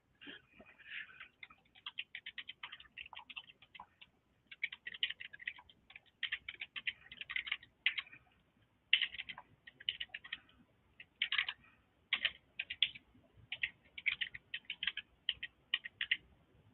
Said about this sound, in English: Let me type in here.